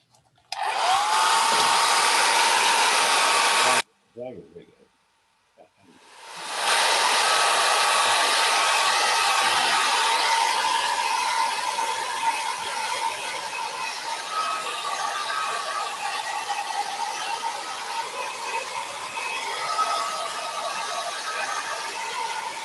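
A hair dryer blows on a watercolour painting in a loud, steady whooshing drone. It cuts out for a couple of seconds, then powers back up and runs on evenly.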